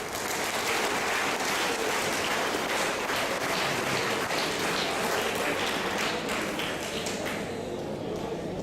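An audience applauds a young woman named Reshma at Saboo Siddiq College in Munich, a steady wash of dense clapping holding at an even level for the whole stretch, with faint voices mixed in.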